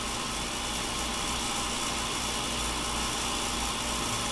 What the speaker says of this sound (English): We got the tipping torch, and we're gonna make this